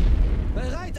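A deep artillery boom rumbles at the start, low and heavy, from the World War I strategy game The Great War: Western Front. Someone speaks over its fading tail.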